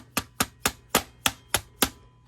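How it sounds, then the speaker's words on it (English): A rubber hammer lightly taps a gate hinge pin during a Lancer Gen-4 gate install, giving seven evenly spaced, soft, close thuds about a third of a second apart. "get your rubber hammer, make sure it's straight,"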